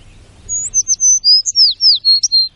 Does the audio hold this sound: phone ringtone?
no